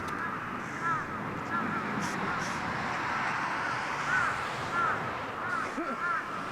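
Crows caw in scattered calls from middle distance over a steady outdoor background of wind and ambient noise, several harsh caws recurring through the scene.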